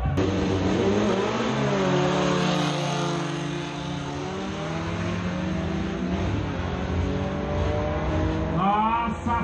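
VW Gol accelerating hard at a drag race, its engine roaring loudly and climbing steadily through the revs as it pulls away, with another rev rising at the very end.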